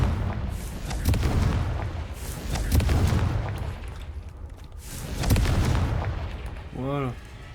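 A Confringo fire spell bursts in the Hogwarts Legacy video game, a few booming blasts spread through the clip, loud and close, with a short rising game chime near the end.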